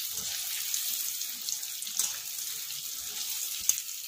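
Cabbage Manchurian balls sizzle in hot oil during restaurant-style re-frying, a steady close hiss with faint pops and small clatters throughout.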